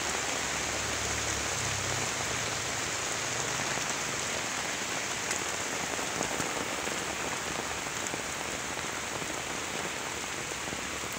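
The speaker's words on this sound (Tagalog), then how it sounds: "Ayaw nang tumigil ang ulan." Unrelenting heavy rain drums on the fields in a steady, close hiss of countless drops, without a pause.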